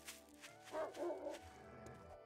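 Wolves in the zombie survival game War3zuk, a mod for 7 Days to Die, give a few faint, short barks and yips at a distance, with one clearer bark in the middle.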